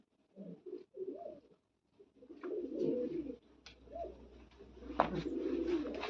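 Red-breasted pigeons in a coop give soft, throaty coos in short repeated phrases, close and moderately quiet, with light rustling and a faint low hum behind them.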